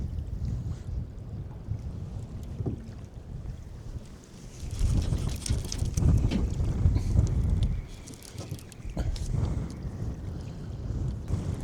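Strong wind gusts roar across an open Mississippi River on a windy day, battering the microphone. The blast swells loudest midway before easing back to a steady rush.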